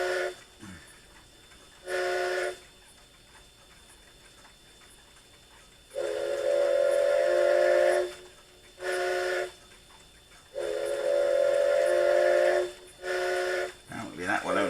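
A Kato N gauge sound unit's steam whistle sounds in several blasts, short toots and longer held tones, between quiet gaps with a faint mechanical hum underneath.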